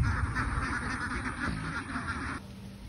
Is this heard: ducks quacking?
yes